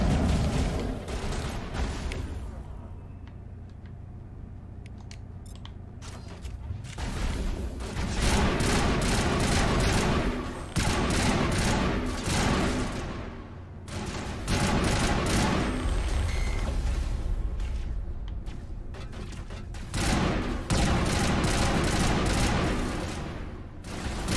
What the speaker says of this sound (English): I like this this burst rifle as opposed to our full auto one